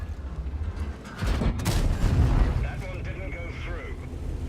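A tank gun fires shells in the World of Tanks video game, a heavy boom amid rumbling engine and mechanical noise, while a voice talks over the action.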